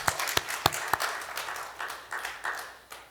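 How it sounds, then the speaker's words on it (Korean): A church congregation at an Easter service gives a short burst of applause, a few sharp claps at first followed by softer, scattered clapping that fades within a few seconds. "우리 박수 한번."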